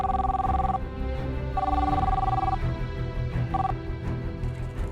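An electronic telephone ring sounds in repeated bursts with short pauses, over a busy background of low noise.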